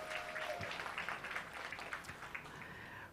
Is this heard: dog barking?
no